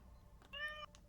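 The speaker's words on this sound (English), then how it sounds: "He's a mad cat." An angry cat lets out a single short, tonal meow while its toenails are being trimmed, close and clear over a quiet room.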